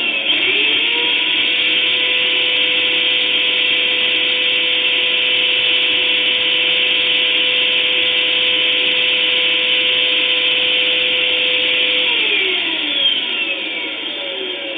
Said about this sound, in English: We have a residential brand vacuum cleaner.